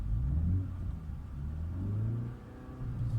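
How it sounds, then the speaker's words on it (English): A BMW 330i G20 engine in sport mode revs up and settles in a low, throaty, partly synthesized roar, rising and falling in pitch over a few seconds, close by with no talking. "it certainly gives you a nice little roar from the engine"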